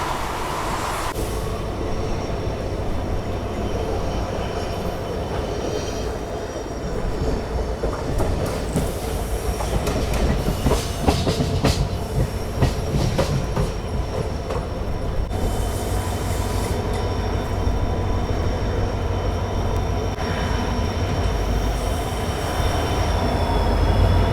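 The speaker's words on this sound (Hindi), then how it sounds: "अभी अपनी ट्रेन पहुंच चुकी है" A passenger train crossing the Thar Desert in heat rolls into a railway station, with loud rhythmic clickety-clack of wheels over rail joints, bursts of metallic squealing and a steady heavy rumble throughout.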